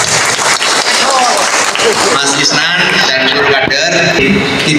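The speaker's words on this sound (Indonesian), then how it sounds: "Tepuk tangan untuk kita semua." A crowd at a political party gathering in a hall breaks into loud, sustained applause, with cheering and voices mixed into the clapping.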